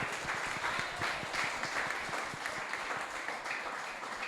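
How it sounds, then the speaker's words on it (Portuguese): Congregation applauding during a family church service, steady dense clapping at moderate volume with no pauses across the whole stretch, sounding somewhat distant in a reverberant room. "Aplauda o Senhor bem forte"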